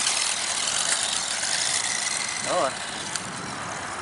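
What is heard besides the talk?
WLtoys 12428 RC car driving off-road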